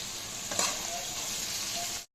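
Squash sautéing in a pan for Filipino pinakbet, an even hissing sizzle with a brief burst as it stirs, close and steady, cutting off abruptly after about two seconds.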